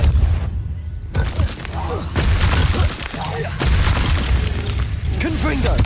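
Depulso force spell in Hogwarts Legacy, repeated heavy booms and thuds in quick succession amid constant combat noise, loud and close, with voices mixed in.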